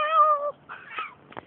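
A cat gives a clear, close meow, followed by a couple of shorter, softer chirps and a brief rustle.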